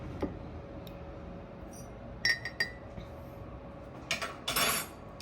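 A teaspoon scooping coffee clinks against a glass in a few short, bright taps, followed by a brief scraping rattle. The sounds are close over a quiet indoor background, with no talk over them.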